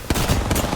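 Hemlock rifle firing in the video game Apex Legends, a quick close burst of a few sharp gunshots in under a second.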